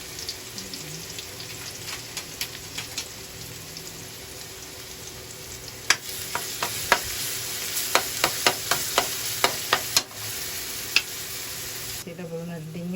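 Chopped onion and garlic frying in a pan, a steady soft sizzle with scattered sharp pops and clinks of stirring, moderately close, with no talking.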